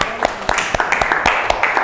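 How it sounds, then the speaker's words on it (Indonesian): Students in a classroom applaud three presenting groups, with sharp claps landing in an even rhythm about every quarter second, close and fairly loud. "Tepuk tangan buat 3 kelompok yang luar biasa."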